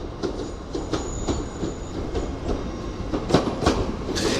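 A train pulls away from York station on the East Coast Main Line, bound for Liverpool, with rhythmic clickety-clack of wheels over rail joints, faint squeals and a passing rumble at moderate distance, no voices.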